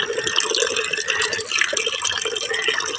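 Water runs and splashes steadily during household cleaning, a continuous close hiss and patter with small irregular flutters and no voices.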